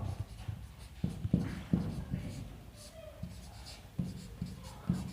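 A pen scratches softly across paper while writing Hindi shorthand, making a series of short, irregular strokes close by at low volume.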